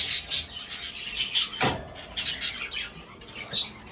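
A fledgling bird chirps repeatedly in short, high tweets, close by, with one brief knock partway through and no speech.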